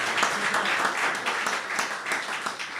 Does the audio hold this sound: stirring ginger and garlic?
no